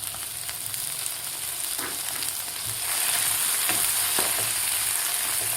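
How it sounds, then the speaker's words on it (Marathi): Chopped onion and a medium tomato fry in oil in a pan, a steady hissing sizzle with occasional stirring knocks, growing slightly louder partway through, close with no voices. "आता टोमॅटो, कांदा आपल्याला व्यवस्थित असा थोडासा गोल्डन कलर होईपर्यंत आपल्याला भाजून घ्यायचा आहे."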